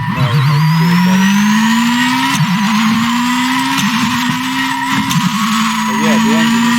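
Engine noise from the rally video game Shakedown Rally, a loud buzzy rising drone shifting through gears, with tire skids squealing over it several times.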